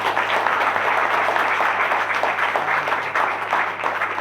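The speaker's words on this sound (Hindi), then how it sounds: "मैं चाहूंगा एक बार जोरदार तालियां।" An audience claps loudly and continuously, a dense, steady wash of applause filling the room without letup.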